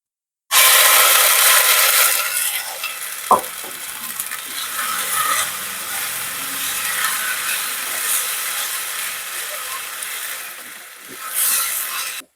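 Onion, ginger and green chilli paste hits hot oil and fries with a steady, dense sizzle, broken by one sharp clink of utensil against the pan partway through and a brief swell near the end.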